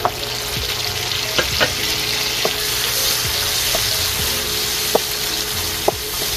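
Sliced tomatoes and garlic sizzling steadily in a hot pan, an even close frying hiss with a few sharp clinks from stirring.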